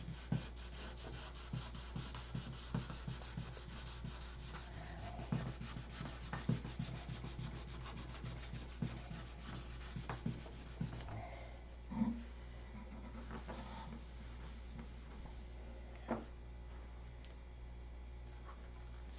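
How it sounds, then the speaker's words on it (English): Steady, close scratching and rubbing as clear coat is sanded off a surface by hand, in repeated back-and-forth strokes that ease off partway through, with no talking. "See the clear I sanded off?"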